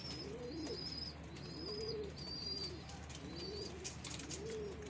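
Pigeons cooing in a loft, a repeated soft rolling coo that recurs every second or so, mid-distance over a steady low hum, with faint higher chirps from other birds.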